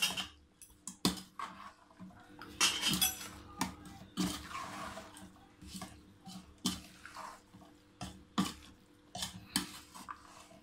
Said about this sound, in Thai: ใส่ทุกอย่างลงไปแล้วก็คนนะคะ